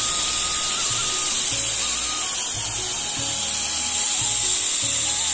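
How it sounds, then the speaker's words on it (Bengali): An electric grinder steadily whirs as it grinds soaked rice into fine flour, a loud continuous motor hum with periodic low thumps from the grains churning. No voices are heard. "এবার চলো চালটাকে এবার একটু বেটে নিই।"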